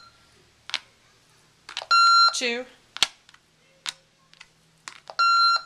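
A Real Care Baby Think It Over G6 doll gives sharp electronic beeps while being programmed with its key, two longer tones among short clicks and taps, with a person counting aloud between them.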